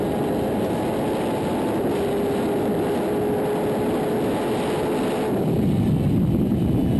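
Kawasaki Ninja ZX-10 R superbike (2012 litre-class sport bike) recorded onboard at speed on a race track, a steady loud high-revving engine drone under heavy wind rush, easing slightly near the end.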